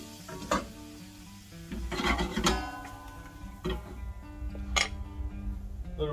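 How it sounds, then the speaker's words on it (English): Root vegetables fry in melted butter in a pan, a soft sizzle broken by clinks and scrapes of a utensil against the pan, with a few brighter knocks and some faint tonal background sound. "Once the butter is melted, turn the heat down and then slide in your vegetables."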